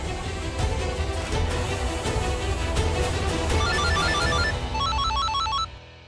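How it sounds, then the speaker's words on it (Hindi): A phone's ringtone trills in a repeating electronic pattern for an incoming call, loud and close over background music before cutting off abruptly near the end, with no talking. "फोन आ रहा है।"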